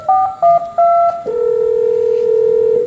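A telephone being dialed: several short keypad tones in quick succession, then a steady ringing or dial tone holding for over a second, clear and loud in a quiet room.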